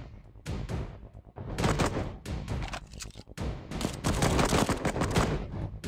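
Rapid bursts of machine gun fire from the shooter game Cover Fire rattle in dense, loud volleys with brief gaps between them, heavy and continuous throughout, with no talking.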